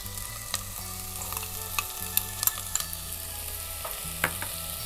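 Ginger and red onions fry in a pan with a steady sizzle, broken by repeated scraping stir strokes of a utensil; close and moderately loud, with no talking.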